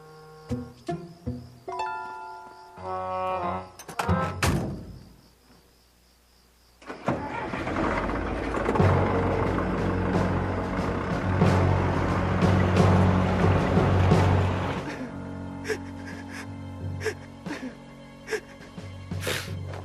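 Cartoon heavy machinery revs its engine and plows through things, a loud rumbling roar with crashing debris in the middle, preceded by scattered effects and followed by clattering impacts.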